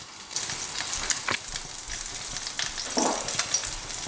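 Coarsely chopped onions frying for a beef curry crackle and sizzle steadily in a pan, close and fairly loud, with a brief stir scraping partway through and no talking.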